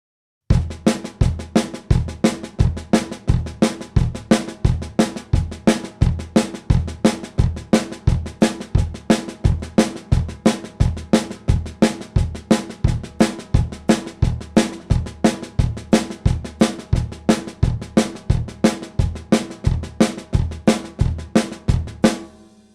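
A drum kit plays a country train beat, with bass drum, snare and hi-hat driving a fast, even chugging pattern of accented strokes that repeats steadily and loudly for the whole stretch, no voices over it.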